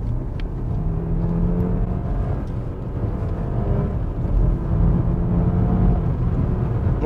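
BMW 520 accelerating hard as the turbo spools up, a sustained engine drone heard from inside the car that rises slowly in pitch and loudness, with no talk over it.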